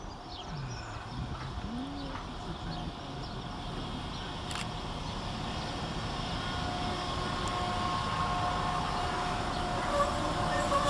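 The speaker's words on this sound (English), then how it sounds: "here comes my train out the tunnel in the form of 172-339 and 172-333" A pair of Class 172 diesel trains emerges from a tunnel into Birmingham Moor Street station, its low engine drone and wheel noise building slightly over the clip, with a faint bird call early on.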